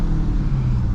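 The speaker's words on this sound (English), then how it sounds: "Y'all can hear that downshift though." Dodge Charger Hellcat engine heard from inside the car on a rainy drive, a loud, steady low rumble as it downshifts, with no talking.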